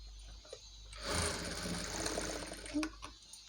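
A sewing machine stitches blouse cloth while a neck design is sewn, starting after a quiet moment into a continuous close mechanical whir for about two seconds, then winding down with a few clicks.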